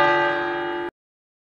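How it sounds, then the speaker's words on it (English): A single doorbell-like bell chime rings at a house door, bright and sustained with rich overtones, then cuts off abruptly after under a second, leaving silence. "I guess we have to ring the bell to get served"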